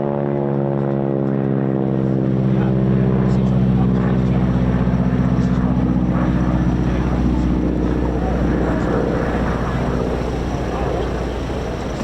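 A propeller-driven tail-dragger aircraft at the RAF Cosford air show drones loudly and steadily with a strong engine hum, while someone talks over it.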